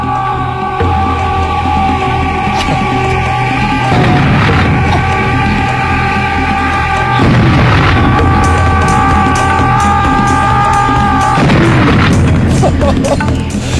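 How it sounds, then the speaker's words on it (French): A headless kamikaze bomber from the Serious Sam video game screams as it charges, then blows up in loud booming explosions amid sustained dense game noise, with further blasts following. "un gars qui arrive en se rapprochant avec des bombes à la main et qui explose quand il arrive à votre portée"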